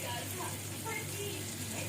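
Spice masala for rajma sizzles in a pan as a dense, steady hiss, close and continuous for a short moment.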